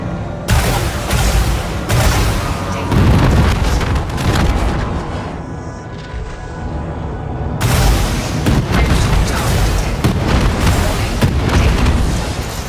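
Packhound missiles explode over and over in a space combat game, dense booming blasts rolling almost continuously at high volume with a brief lull around the middle.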